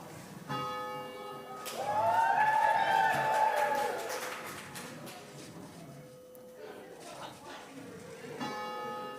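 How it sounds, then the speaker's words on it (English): Church bells of First Church Unitarian in Littleton ring out loudly in a swelling peal, tones ringing and overlapping for several seconds before fading, with quieter background noise around them. "And now the bells."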